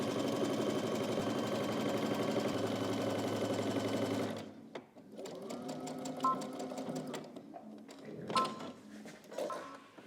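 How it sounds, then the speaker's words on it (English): A sewing machine stitches the crotch seam of loungewear in a steady, close, continuous whir for about four seconds, then stops, leaving quieter handling clicks and rustles. "we're just going to head to the machine, and we're just going to start on one end and stitch all the way through the crotch"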